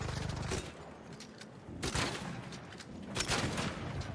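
Gunfire in the shooter game ARC Raiders while aiming at a machine's knee: a few quick bursts of shots, with the last two louder and more sustained, over a steady background rumble.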